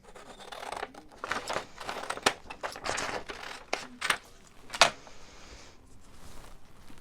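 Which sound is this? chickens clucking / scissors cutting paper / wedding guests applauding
scissors cutting paper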